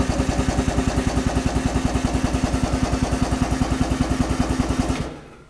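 A drum handling head (RRH01 with power clamp drum inserts) lifts a plastic drum, giving a loud, steady, rapidly pulsing mechanical drone with light clatter that cuts off abruptly near the end.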